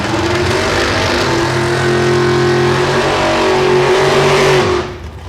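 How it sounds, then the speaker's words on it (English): A naturally aspirated big-block drag race car revs hard and steady at close range, a loud, continuous engine roar held for about five seconds before cutting off abruptly. "Here's that big block naturally aspirated."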